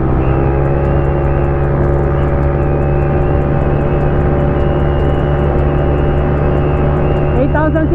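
A Honda Click 150 scooter fitted with a 62mm bore-up engine holds a loud, steady high-revving drone with strong tonal whine, sustained throughout.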